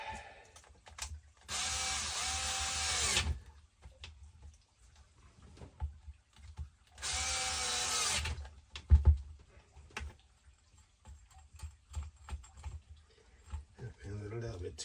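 A power tool tightens the motor mount screws holding the pinion on a Traxxas XRT RC truck. It gives two close, loud whirring bursts of about two seconds each, with quieter clicks and handling noises between and after them.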